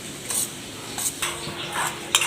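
A spoon scrapes and stirs a thick mixture of coconut and dry fruits in a pan in several short strokes, with faint sizzling between them and no talking.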